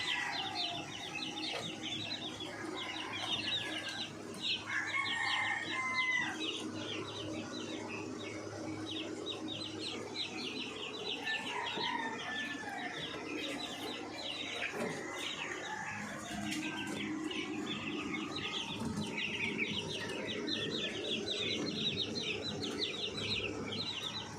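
Chicks and chickens at a small farm coop, with soft clucks and peeping running steadily in the near background alongside other bird chirps and occasional wing flutters.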